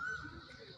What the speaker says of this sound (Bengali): পাখির ডাক শুনছেন কোকিল